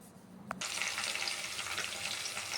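Green chillies hit hot oil in a pan, and a sudden rush of loud, hissing sizzle starts after a brief thump and keeps going evenly to the end.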